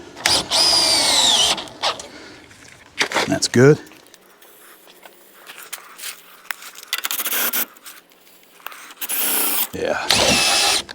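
Cordless power drill driving screws into a tightening joint, with short whirring bursts near the start, middle and end and speech in between.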